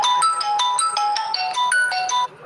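A phone ringtone plays a bright electronic melody of repeating beeping notes, loud and clear on its own for a couple of seconds before cutting off.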